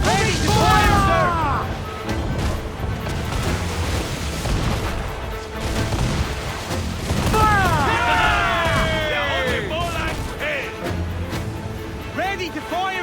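Ship cannon fire during a naval battle in Assassin's Creed IV Black Flag, repeated booms and bursts under a dense game mix with shouted crew voices and music throughout.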